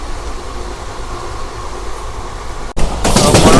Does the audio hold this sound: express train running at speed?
yes